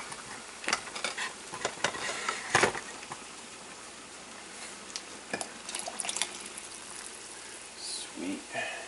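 Diced vegetables for borscht tumble into a cooking pot, followed by stirring, scraping and light clinks of utensils at close range, with a brief voice in between.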